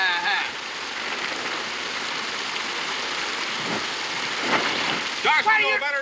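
Steady rain hisses throughout, with a low rumble underneath; at the end a voice starts talking over the downpour.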